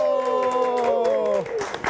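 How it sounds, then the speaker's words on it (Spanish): Crowd applause and cheering greet a musical group on stage, the clapping nearly buried under a loud sung or spoken voice before it comes through more clearly at the end. "¡Un aplauso!"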